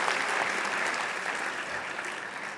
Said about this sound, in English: a round of applause for the graduates from the Electrical Engineering Technology Control Systems